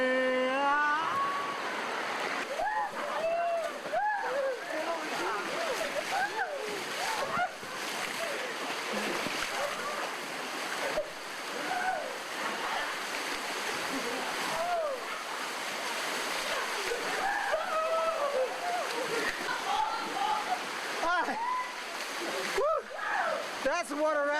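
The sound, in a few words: water splashing during river rafting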